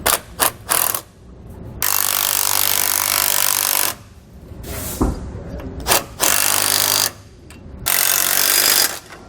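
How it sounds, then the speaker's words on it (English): A power ratchet or impact tool drives nuts with a 15mm socket while a rear baseplate is fitted to a 2014 Thor Windsport motorhome, sounding in loud, sustained whirring bursts separated by short pauses and metallic clicks. "we can go back and tighten down our hardware"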